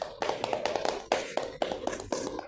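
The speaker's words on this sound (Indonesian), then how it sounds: "Tepuk tangan untuk Rayvan dong." A small group claps for Rayvan, a podcast guest, in a casual studio chat; several uneven bursts of hand claps and taps, close and fairly loud, with no talk over them.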